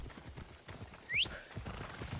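In Assassin's Creed Odyssey, a horse's hooves thud steadily on the ground while a short, high whinny rises briefly through the middle, all fairly faint.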